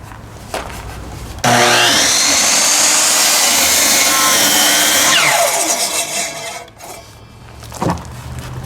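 A sawmill blade cuts through wood to make stakes with a loud, steady, rasping whine that starts abruptly, holds for several seconds, then drops in pitch and fades, ending with a brief knock.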